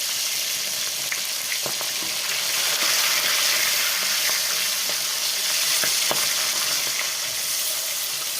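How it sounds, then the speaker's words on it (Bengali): Fish frying in hot oil in a pan for a Bengali dish, a steady close hiss of sizzling with scattered small pops and crackles running throughout, moderately loud with no talk. "বন্ধুরা মাছটা ভাজা হয়ে গেছে, আমি তুলে নিচ্ছি।"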